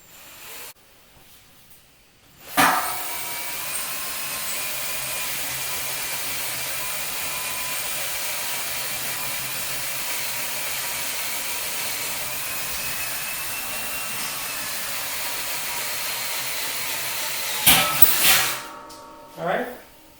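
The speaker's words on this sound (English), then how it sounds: "Now I've got my drill. I've got it set on the drill setting" A steady, loud whirring hiss of a power drill drilling through a stainless steel brewing kettle runs continuously for about fifteen seconds, starting and stopping abruptly, with faint clicks at the end.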